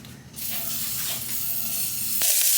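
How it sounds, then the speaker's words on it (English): A hand-pumped olive oil mister sprays oil into a pan, giving a steady close hiss that runs unbroken for a couple of seconds and grows slightly louder at the end. "You just pour your own olive oil in it, and it's a mister. So you just pump it up and then spray it in the pan."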